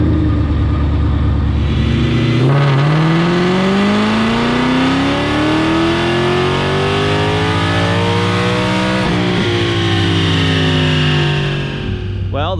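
A silver S550 car running on butane revs hard on a dyno, its engine note climbing steadily in a loud continuous roar for several seconds before a brief shift and a final drop near the end.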